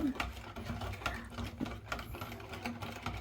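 Two eggs are beaten in a bowl for doughnut batter, giving quiet, quick rhythmic tapping and clicking strokes that repeat steadily throughout.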